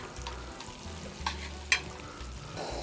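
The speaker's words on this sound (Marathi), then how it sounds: "लसूण परता याच्यामध्ये थोडा." Garlic sautés in butter in a pan over a low flame, giving a soft, steady sizzle close by, broken by a couple of brief clinks of a utensil.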